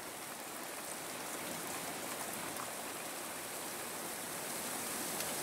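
A dense, even hiss of steady rain plays as ambience for a desert town level in a Western-themed video game, loud and continuous with no breaks or voices.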